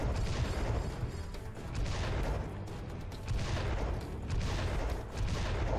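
Rapid, dense gunfire from a heavy weapon in Serious Sam VR fills the whole stretch with continuous crackling and thudding blasts, close and loud, swelling in bursts with brief dips between.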